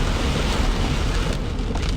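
Heavy rain pours down during a severe thunderstorm in Ankeny, a loud, dense, unbroken roar drumming close by with a deep low rumble beneath.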